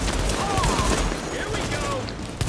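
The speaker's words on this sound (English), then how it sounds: "Now watch, all the enemies are shooting at me." Enemy gunfire from Tom Clancy's The Division, a dense fusillade of overlapping shots and bursts filling the whole stretch at steady high intensity, with a voice partly mixed into the clamor.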